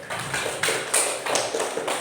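Students in a classroom clap in a few uneven bursts, the hand claps fairly soft and a little scattered over a couple of seconds.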